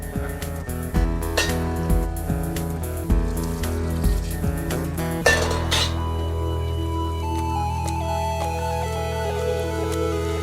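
Arborio rice risotto being stirred in a pot, with repeated clinks and scrapes of a utensil against the pot and a soft wet bubbling underneath, close and steady with no talk.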